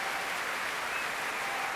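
A large Proms audience applauds an orchestra of 160 young musicians after a performance of Mahler's First Symphony, a steady, distant wash of clapping with no pauses.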